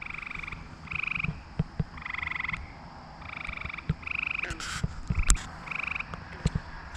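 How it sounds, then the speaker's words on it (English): Tree frogs and bullfrogs croak at a pond at night in repeated rhythmic trilling bursts, joined by scattered deeper clicks and croaks, clear and fairly close. "The tree frogs, bullfrogs going bananas here on the pond."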